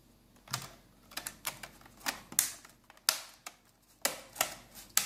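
Keyboard strip being slotted into a Toshiba Satellite Pro C650 laptop during reassembly: a quick run of small plastic clicks and ticks, close up and irregular, with no talk.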